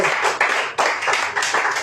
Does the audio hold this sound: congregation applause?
yes